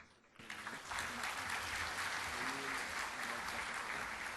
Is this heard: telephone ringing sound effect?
no